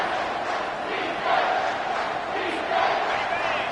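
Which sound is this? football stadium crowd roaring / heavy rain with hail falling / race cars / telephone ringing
football stadium crowd roaring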